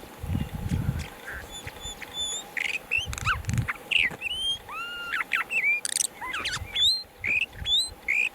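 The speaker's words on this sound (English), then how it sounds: "Pangolin noises." Pangolin calls play back as a series of short chirps, squeaks and bird-like whistles with soft low grunting bursts, irregular and close.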